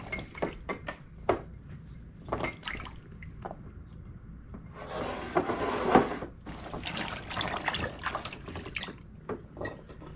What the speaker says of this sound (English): Now she's loading quart jars